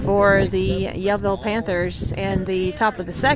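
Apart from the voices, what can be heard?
None of the usual background noises is heard.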